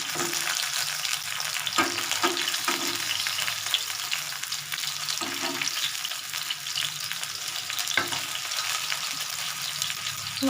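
Banana flower fritters fry in hot oil with a steady close sizzle, punctuated by a few soft clinks and scrapes of stirring, with no voices over the cooking.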